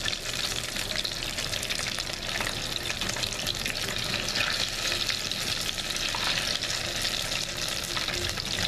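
Batter-coated farm-raised shrimp deep-frying in hot oil, a loud, dense and unbroken sizzle with bubbling crackle, as the pan is given a shake to keep them from sticking.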